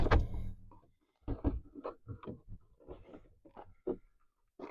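On a fourth-generation Dodge Ram Tradesman truck, the interior door trim panel is pulled up off the door. Its plastic clips snap and creak in a burst of close, sharp pops and scraping noises, with no talk.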